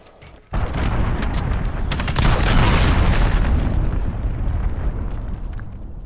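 Explosions from allied cruise missile strikes in Call of Duty: Modern Warfare, a loud rumbling barrage that bursts in suddenly and builds into sustained booming blasts and crackling gunfire-like impacts, fading slightly toward the end.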